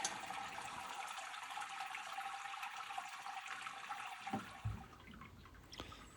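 Liquid drains steadily during home beer brewing, likely wort running out after recirculation for a Citra batch; a continuous watery rush with a few small splashes near the end, no talking.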